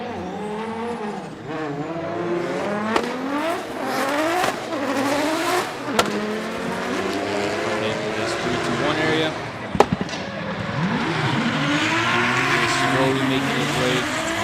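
Drift cars at Okayama International Circuit, including a Z33 Fairlady Z and a JZX100 Mark II, screaming at high revs with shifting engine pitch, sharp pops and tire squeal, heard loud and close under a commentator's continuous talk.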